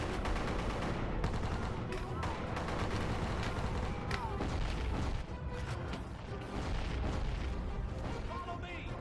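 Video game gunfire rattles in dense, continuous bursts mixed with booms and explosions, loud and busy throughout with no break.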